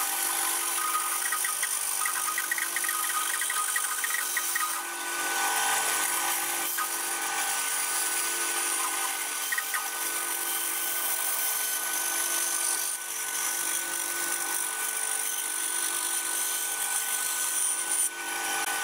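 A power tool roughly cuts a piece of olive wood for a handmade guitar headstock, a continuous high whining buzz with a steady grinding texture that runs nearly unbroken for the whole stretch, close and fairly loud with no talking.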